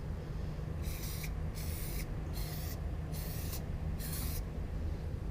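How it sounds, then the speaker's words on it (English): A handheld spray bottle misting gently: five evenly spaced, short hissing bursts of about half a second each, close and clear over a steady low background hum, with no voices. "If you're just gentle with the spraying,"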